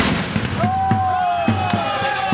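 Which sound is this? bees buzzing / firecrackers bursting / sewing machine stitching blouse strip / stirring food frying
firecrackers bursting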